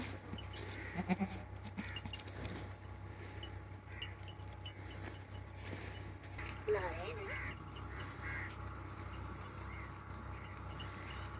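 A goat bleats a couple of times, moderately close, over a steady low hum with faint background voices.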